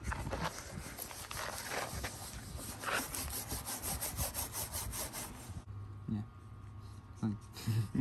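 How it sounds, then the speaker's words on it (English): A toothbrush scrubbing a car headlight lens in quick, rhythmic back-and-forth strokes, close and fairly loud, pausing briefly near the end before a few more short rubs. "just taking it and just scrubbing your headlight"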